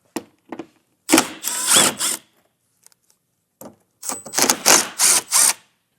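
Power tool backing out 10mm screws on a 2018 Toyota Highlander during a Curt trailer hitch install, a few short whirring bursts separated by silence, loud and close, with no one speaking.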